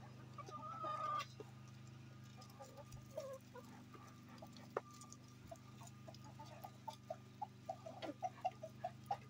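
A rooster clucks in a series of short, soft clucks, growing more frequent toward the end, over a low steady hum.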